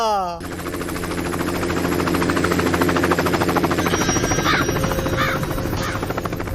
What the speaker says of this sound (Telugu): మన ఊర్లో హెలికాప్టర్ ఏంట్రా?